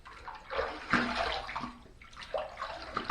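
Running water splashes as a Henson safety razor is rinsed under a tap, close and fairly quiet, with irregular gurgling bursts as the blade passes in and out of the stream.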